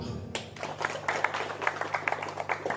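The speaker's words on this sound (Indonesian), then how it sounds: "Tepuk tangan dulu." Audience clapping at an Indonesian religious lecture, starting after a short low hum and becoming a moderate, uneven patter of hands from a small crowd that continues steadily.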